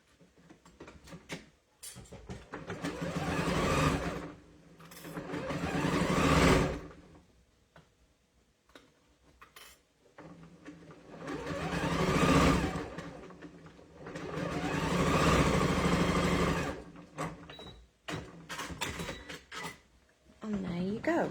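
A sewing machine stitches quilt blocks for a block-of-the-month sampler quilt, running in several long steady bursts with pauses between them, loud and near.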